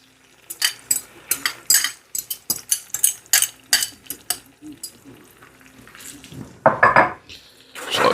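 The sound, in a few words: metal fork scrambling eggs in a nonstick pan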